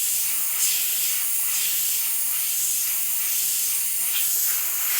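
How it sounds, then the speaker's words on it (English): Airbrush spraying paint onto a shield and paper canvas: a steady, close, continuous hiss that holds evenly throughout, with no voices. "I'm actually spraying more on the shield than I am on the paper canvas."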